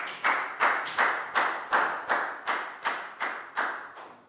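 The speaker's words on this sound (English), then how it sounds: "Big round of applause for Prel" A small class of Year 4 pupils claps in a steady rhythm during a maths lesson, about a dozen evenly spaced, fairly close claps with no talking over them.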